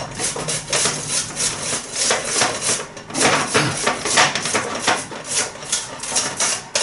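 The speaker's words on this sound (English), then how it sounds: "I'm just going to grate them into a bowl." Waxy Charlotte potatoes are grated by hand into a bowl, a steady close rasping scrape in continuous strokes with no talking.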